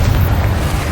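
A deep, loud Confringo blast spell explodes in the video game Hogwarts Legacy, a single heavy low boom that rumbles for a second and then trails off.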